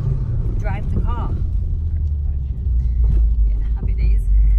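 A modified Ford Focus RS Mk2 with a quick shifter drives on a main road, its engine a steady low rumble heard from inside the car, with people talking briefly over it.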